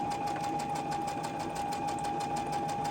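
A sewing machine chain-stitches quilting fabric at a 2.5 stitch length, giving a close, continuous motor hum with a fast, even needle clatter and no voices.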